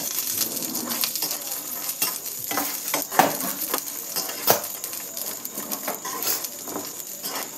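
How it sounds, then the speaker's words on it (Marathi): Peanuts, garlic and green chillies sautéing in oil in a pan, with steady close-up sizzling and repeated scraping and tapping of a stirring spoon, no talk. "नंतर यामध्ये थोडं तेल घालून याला छान परतून घ्यायचं आहे।"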